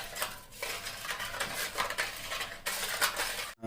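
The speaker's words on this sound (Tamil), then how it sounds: "இப்போ நம்ம போட்ட பொருள் எல்லாத்தையும் வந்து நம்ம லைட்டாக கலக்கி விட்டு" A spoon stirs yeast, sugar and salt together in a bowl, giving a steady scraping and clinking close by with light rhythmic swirls for a few seconds before stopping.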